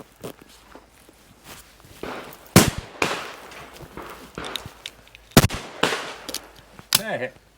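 Shotgun shots fired at an outdoor sporting clays competition, a few sharp, loud broadband reports spaced several seconds apart amid scattered footsteps and occasional voices.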